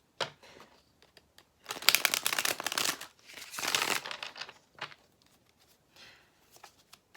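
A deck of tarot cards being shuffled close by, with crisp riffling and rustling bursts that swell and fade in several rounds, interspersed with quieter handling.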